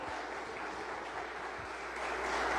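A church congregation at a Sunday service applauds in a continuous, even rush of clapping that holds steady and grows slightly louder near the end.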